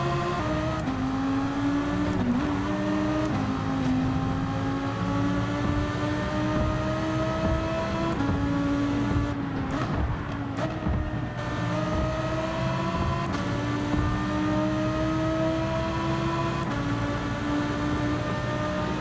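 Race car engines in Gran Turismo 7 roar continuously through a close race, pitch climbing and dropping with gear changes and throttle, with other cars' engines layered in and a brief rough burst midway.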